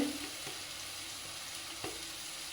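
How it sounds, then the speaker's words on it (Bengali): Spice masala of turmeric and chili powder sizzling in hot oil in a pan, a steady faint hiss with a couple of soft scraping stirs, no talking. "মশলাটা একটু ভালো করে কষাই নিব এখন আমি।"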